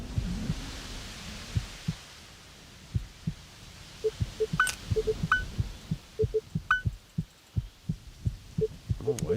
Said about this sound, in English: Oh, why is his heart beating like crazy?